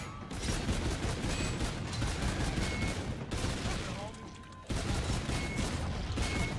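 Steady automatic gunfire from shooting clowns in a zombies video game, dense rapid bursts running nearly the whole time with a short dip before resuming loud.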